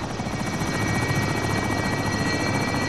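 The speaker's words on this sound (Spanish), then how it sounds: "Helicóptero en posición para el demonio." Helicopter hovering in the video game Call of Duty: Modern Warfare, a steady loud rotor thrum with rhythmic blade chop and engine whine, close and continuous with no talk.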